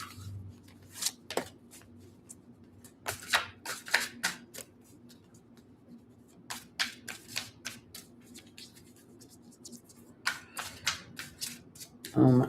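Tarot cards being shuffled by hand in short crisp riffling bursts, separated by quiet pauses, close and fairly soft, with occasional faint voice.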